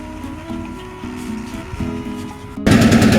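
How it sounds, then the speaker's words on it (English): A tractor engine runs with a steady, rapid chugging idle, then abruptly surges into a much louder, rougher roar near the end as it revs up. "Okay, we got the tractor running."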